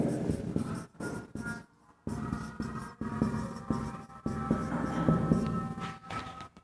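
Chalk or marker strokes on a board during a Class 9 math lesson on number systems: short scratchy bursts in an uneven rhythm, close and fairly clear, with someone speaking in Hindi over and between the strokes.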